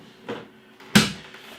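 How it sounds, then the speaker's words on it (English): The door of a Krups SubCompact beer dispenser shuts, a soft first contact followed by a sharper click or thud, close by and quiet, with no talking. "close the door again."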